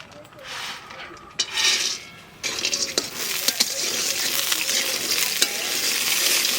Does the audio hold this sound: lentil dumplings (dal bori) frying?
yes